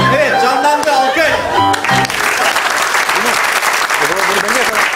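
Applause from a Turkish comedy stage show's studio audience, a dense, steady wash of clapping that carries across the whole stretch, with music and voices over it at the start.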